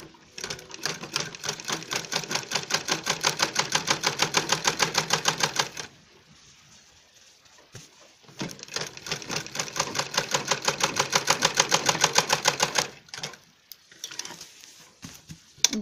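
A sewing machine stitches a 1-inch seam on a bag with zip pockets, rattling loudly and rhythmically in two long bursts separated by a quiet pause, then a short final run.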